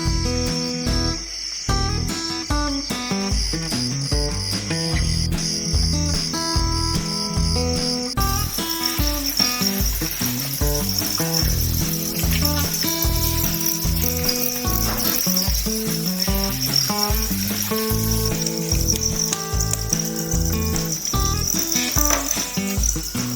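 House crickets chirp on a Chinese cricket farm as a steady high, shrill trill beneath loud, rhythmic background music for the whole stretch.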